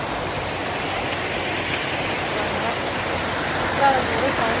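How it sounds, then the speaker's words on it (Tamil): Loud, steady rush of stream water pouring through a rocky channel, a dense continuous hiss with no pauses, close by and filling the whole clip. "தண்ணி எவ்வளோ சவுண்டாக இருக்குது பாருங்கள்."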